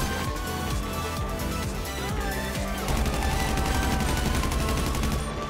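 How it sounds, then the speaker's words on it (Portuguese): Rapid bursts of automatic gunfire in a GTA 5 Online shootout, dense and continuous across the whole stretch, with no talk over it. "Eu sei que tinha um cara atirando dali"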